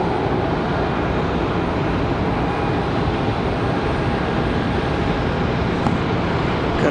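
An ERJ regional jet departs Charlotte Douglas airport, its engine roar a steady, loud broadband rush that holds evenly throughout with no voices.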